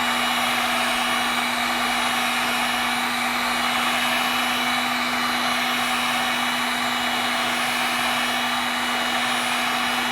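Heat gun on its low setting blowing steadily for the whole stretch while reflowing a PS3 motherboard, a loud, unbroken airy roar with a constant hum beneath and no talking.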